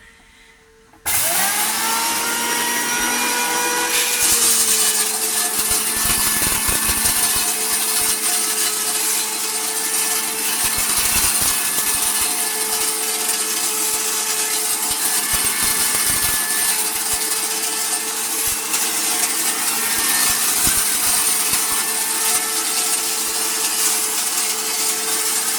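A home flour mill grinds grain with a loud, steady mechanical roar and buzzing drone, starting abruptly and running continuously at close range without letup.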